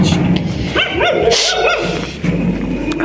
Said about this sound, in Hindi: कुत्ता आ गया, इसको देख के भौंक रहा है ये,